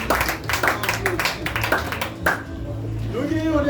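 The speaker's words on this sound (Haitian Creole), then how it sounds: "Applaudis tout le monde." An audience claps in quick, dense bursts while someone speaks over the applause, which fades after a few seconds.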